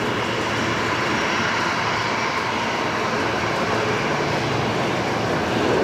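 Jet airliner arriving from Queenstown, New Zealand, landing on runway 01 right at Brisbane Airport, a steady, loud broadband engine roar that holds throughout without a break and swells slightly at the end.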